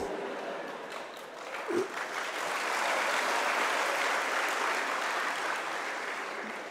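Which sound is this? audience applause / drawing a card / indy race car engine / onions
audience applause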